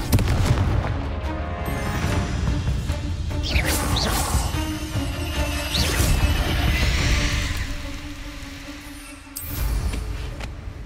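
Confringo explosion spells and other combat spells burst in the video game Hogwarts Legacy, a series of loud booms and blasts over a rumbling low background, with sharp bursts around the middle and a final one near the end.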